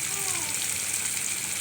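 Tomatoes and carrots sautéing in hot oil for a carrot chutney, giving a steady, close sizzle that holds evenly at moderate level throughout, with no talk over it.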